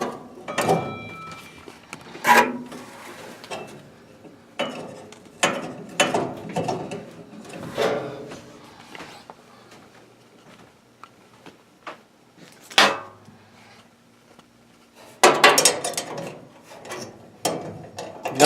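A screw being worked loose from the burner assembly of a Kenmore dryer gives repeated ratcheting, metallic clicks and scrapes in irregular bursts, close and fairly loud, with short quiet gaps between handling noises.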